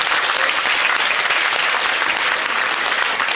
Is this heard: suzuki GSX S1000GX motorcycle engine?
no